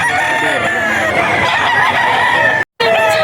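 Chickens and roosters at a farm in Bocaue, Bulacan, crow and cluck loudly and close together in an overlapping chorus, cut by a brief silent gap near the end.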